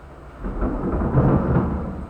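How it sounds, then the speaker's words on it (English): A low, broad rumble of thunder rolls on for about two seconds, building after a quiet start and staying loud and deep throughout, with a faint hiss like rain beneath it. "it's thunder."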